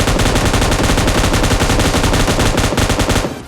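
An M249 machine gun fires in the video game PUBG Lite, one loud, continuous fast burst of rapid shots lasting several seconds before cutting off.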